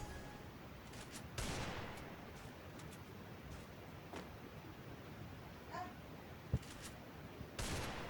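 Gunfire from a shooting video game crackles in several sharp bursts and single shots spread across the stretch, fairly distant and mixed with faint background chatter.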